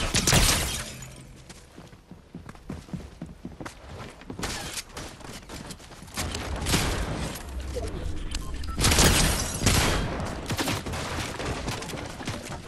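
Rapid bursts of gunfire from an enemy in Fortnite crack in dense, loud volleys across the whole stretch, with brief lulls between strings of shots and a voice speaking at times.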